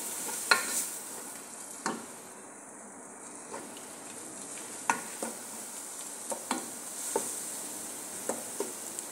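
Meat seasoned with oregano frying in a pan, a soft steady sizzle broken by scattered clicks and scrapes of stirring, fairly quiet and close with no talking.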